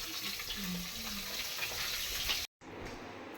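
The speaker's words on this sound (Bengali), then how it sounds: "আর এখানে কিছু মাছ ভাজা চলছে মাগো তেল ছিটকাচ্ছে" Hilsa fish frying in hot oil, with a dense, steady crackle and spitting of splattering oil, broken by a brief gap near the end; a voice is faintly present underneath.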